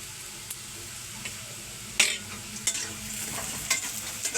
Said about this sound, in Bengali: মশলাটা আরেকটু ভাজা ভাজা করে নেব।